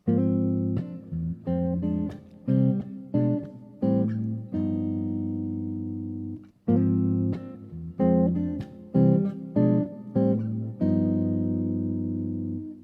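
A chord progression from a song is played in clean, sustained chords. Clusters of quick plucked notes lead into held chords, and the sequence repeats twice.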